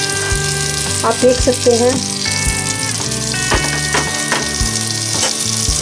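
Rajma masala frying in a pan, a loud close sizzle that carries on throughout, with someone speaking briefly over it and some tonal background sounds.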